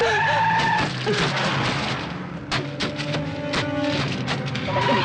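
In a car chase from a Hindi-dubbed South Indian action film, a car turns hard with loud, sustained tire squeals and skidding over engine noise, punctuated by sharp impact-like bangs.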